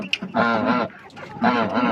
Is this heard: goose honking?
yes